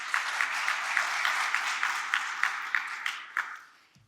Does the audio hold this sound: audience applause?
yes